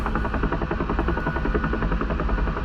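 UH-1H Huey helicopter in the DCS World flight simulator, a loud, continuous rotor chop and engine roar filling the whole stretch without talk.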